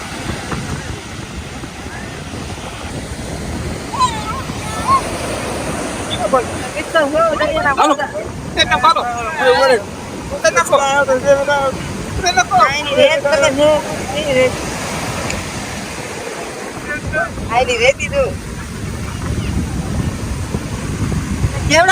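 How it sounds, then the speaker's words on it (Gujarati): Sea waves breaking on the shore at Somnath, a continuous surging wash with wind buffeting the microphone, while people talk and exclaim over it. "કેવડા મોજા આવે છે."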